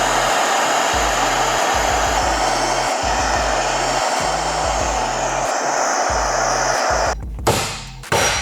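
A heat gun blows steadily at close range on a car suspension bush during an Alfa Romeo rebuild. Its airy roar pulses on and off in short regular bursts, then cuts out near the end with a thump.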